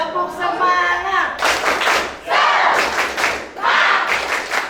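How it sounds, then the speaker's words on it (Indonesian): A class of children claps hands in loud, energetic bursts with crowd shouting mixed in, the rhythmic clapping swelling in waves close by. "Pakai tepuk tangan."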